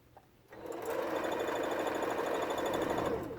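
A sewing machine starts up and runs steadily, stitching a ribbon bargello quilt: a close, continuous motor whir with a rapid needle patter that keeps going to the end, and no talking.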